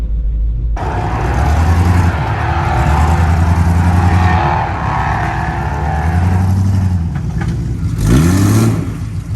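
A Jeep XJ engine revs hard and continuously while the vehicle sits stuck in thick, wet mud, the loud mid-pitched engine note rising and falling in several surges, with a sharper rev near the end.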